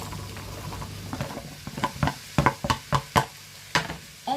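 Garlic and onion sautéing in a pan, a low sizzle under a series of sharp knocks and scrapes as a utensil stirs, growing busier toward the end.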